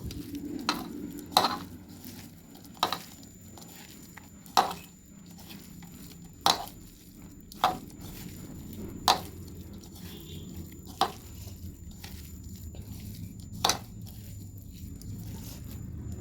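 Flour and potato dough with chili flakes and garam masala being kneaded by hand, giving soft squishing and pressing sounds broken by about a dozen sharp slaps or thumps at uneven intervals, close by, with no talking.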